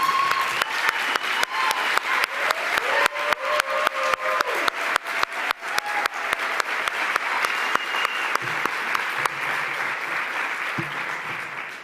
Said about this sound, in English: please rise and give a round of applause to our outgoing Chair